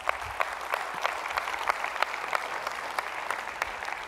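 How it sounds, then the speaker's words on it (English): Church congregation applauding after a sermon passage, a steady wash of clapping with distinct sharper claps scattered throughout, moderately distant and alone without talk. "Yeah, you can applaud that."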